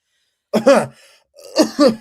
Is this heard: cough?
yes